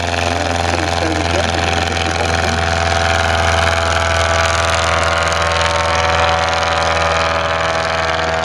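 A replica Edwardian aircraft's 100 horsepower Rolls-Royce engine runs at an air display, a loud, continuous, even drone with a voice speaking over it.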